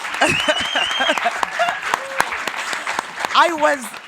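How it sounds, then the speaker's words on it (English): A crowd applauds steadily while voices cheer and call out over the clapping. "Let's all clap hands for them."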